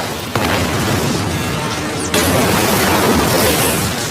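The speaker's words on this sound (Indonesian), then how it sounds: "Kate langsung melepaskan pin granatnya, melemparkan granat itu ke dalam mulut aliennya" A grenade explodes inside an alien's mouth in a film scene: a loud, dense, sustained boom with rumbling debris and noise, marked by a sharp burst near the start and a second surge about two seconds later.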